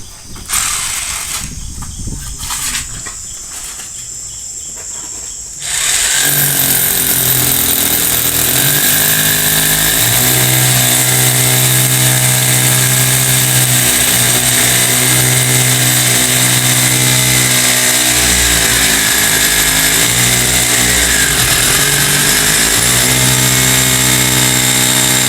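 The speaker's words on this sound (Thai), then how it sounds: "เจาะเสาไว้" A power tool whirs loudly while boring into a post on a building site, steady and close for about twenty seconds with slight changes in pitch as it bites, after a few seconds of quieter scraping and clatter.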